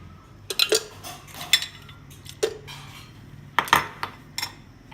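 Ice cubes dropped into a glass of mango panna made with ginger juice, lemon juice and black salt, giving several sharp, bright clinks in a few quick bursts that are close and fairly clear over a quiet background.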